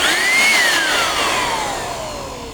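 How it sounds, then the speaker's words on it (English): A brand new electric air blower running as a vacuum cleaner gives a loud, steady whine and rushing airflow, its pitch rising at first and then slowly sliding down as it keeps running alone. "So it will work as a vacuum cleaner now."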